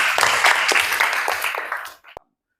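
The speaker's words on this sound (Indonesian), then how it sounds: "tepuk tangan semuanya." A crowd claps steadily for about two seconds, then the applause fades out quickly into silence.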